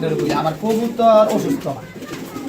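Pigeons cooing at a pigeon farm, close and fairly loud, soft rolling coos mixed with voices talking nearby.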